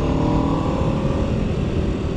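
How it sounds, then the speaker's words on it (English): Aprilia RSV4 1100 Factory motorcycle riding on the road, a loud, steady engine drone with a rough low rumble and wind noise, close and continuous with no talking. "This is basically a race bike on the road."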